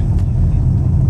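A 1996 Mercedes-Benz C180 W202 cruising in third gear, a loud, steady low engine and road rumble heard from inside the car with no talking.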